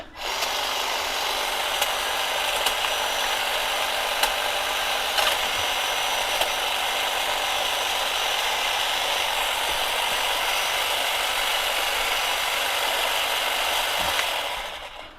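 Greenworks 40V cordless pole hedge trimmer cutting tree branches left from pruning, a continuous high-pitched motor whine with cutter chatter and faint snaps, running steadily from start to finish.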